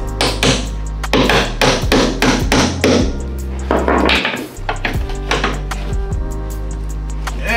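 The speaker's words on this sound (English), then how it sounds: "All I had to do was hammer the 19 in the bolt." A 19 mm socket is hammered onto a stuck bolt during subframe removal on a 1994 Toyota Celica GT PT13. Loud, close metallic hammer strikes repeat in quick irregular bursts with ringing overtones and no talking.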